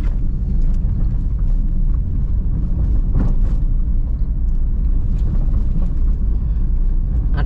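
A manual car accelerating after a shift into third gear, heard from the cabin as a loud, continuous engine and road rumble that stays steady throughout, with no clear rise in pitch.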